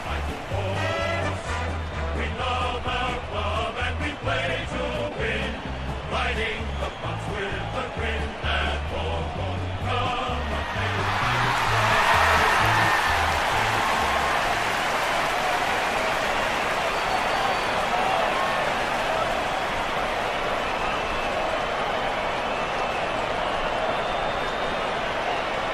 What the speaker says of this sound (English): The Hawks lifted by the noise of the crowd as they make their way onto the ground.